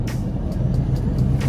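A lorry braking hard while coming in a bit hot, a steady low engine rumble with faint hissy bursts of air brakes recurring through it, no talk.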